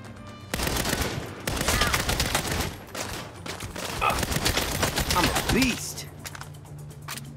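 Rapid bursts of gunfire in the video game Saints Row, dense clustered shots and automatic fire in quick succession, loud and close, with brief pauses between volleys.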